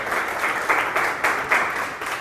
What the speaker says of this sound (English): Give River a round of applause